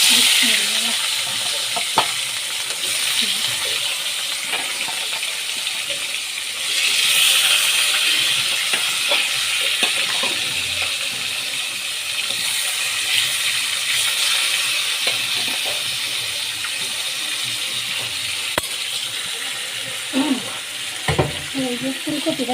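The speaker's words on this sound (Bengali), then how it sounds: "এই মাছটা ভাজতে দিব। এই যে দেখেন মাছটা চুলায় দিই।" Rohu fish fries in a pan on a stove, a steady bright sizzle and crackle running without pause throughout, with occasional clinks and faint handling sounds.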